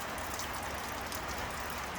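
Steady rain falling at an off-grid homestead in Alaska, a dense, even patter with no pauses, close and fairly loud, with no voices.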